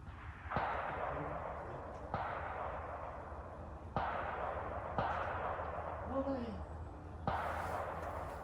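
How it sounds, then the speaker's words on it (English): Rifle shots at a long-range target around 420 yards, fired from an AR-15 or bolt-action rifle with cheap 55-grain ammunition: five sharp cracks spaced a second or two apart, each trailing off in an outdoor echo. "I'm going to shoot that pattern again and have to walk it down."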